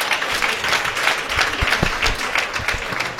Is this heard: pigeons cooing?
no